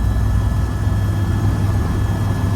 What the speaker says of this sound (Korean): 이 헬기는 세계에서 가장 조용한 대407 헬기입니다.